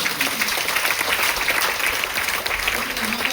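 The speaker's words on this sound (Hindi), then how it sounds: "एक बार जोरदार ताली बजा दीजिए।" A dense, continuous round of audience applause fills the room at a business seminar, loud and steady with no breaks, as many hands clap together for several seconds.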